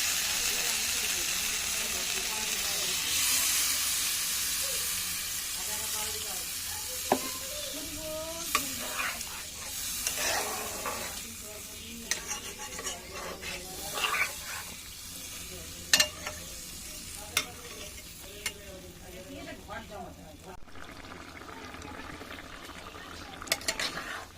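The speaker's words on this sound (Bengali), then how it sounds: "ডিমটা ভালো মতন কষানো হয়ে গেছে এবার দেবো এর মধ্যে আমি জল" Egg curry in a pan as water is poured in: a loud hiss that gradually eases into a softer bubbling simmer, punctuated by scattered sharp clinks of a spoon against the pan, while a person talks over it.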